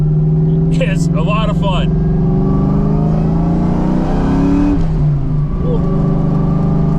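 A supercharged car with a positive displacement blower pulls hard in second gear, its engine note rising steadily and loud throughout, with voices cheering and talking over it.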